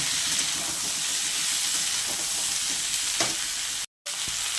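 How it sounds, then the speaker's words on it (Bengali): Chopped onions fry with katwa vegetable stalks in a pan, a loud, continuous sizzle with stirring scrapes throughout that cuts out briefly near the end. "এইবার আমি ডাঁটার সাথে মিশিয়ে ভালো করে ভাজা করে দেব।"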